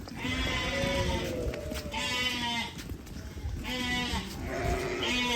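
A flock of sheep bleats loudly and continuously, several ewes and lambs calling over one another close by.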